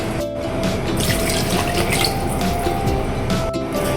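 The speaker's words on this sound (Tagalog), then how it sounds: "Pwede na natin lagyan siya ng tubig." Water is poured steadily into a pan of sautéed bottle gourd with misua, a continuous close splashing and gushing stream that runs the whole time without any talk.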